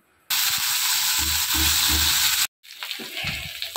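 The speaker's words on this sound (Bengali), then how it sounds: "এই দেখো মাছটা কি সুন্দর ভাজা করছি আমি" Small morola fish fry in oil in a wok, giving a loud, steady sizzle that cuts off sharply, then returns more softly alongside a few clinks and stirring sounds.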